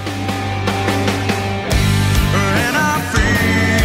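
Overdriven electric guitar strums a short phrase of a song's verse, thick ringing chords that shift twice, loud and close with no voice.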